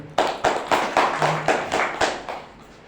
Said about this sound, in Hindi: चलिए एक बार ताली बजा दीजिए।